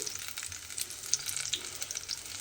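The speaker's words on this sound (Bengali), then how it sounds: "উল্টিয়ে পাল্টিয়ে একটু এগুলো ভেজে নিচ্ছি" Prawn head fritters crackle and sizzle in hot oil in a pan, a continuous close frying hiss with bright popping spatters and soft turning sounds.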